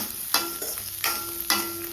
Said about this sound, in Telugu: కొబ్బరి కూడా వేసి ఒక్క నిమిషం అటు ఇటు కలుపుదాం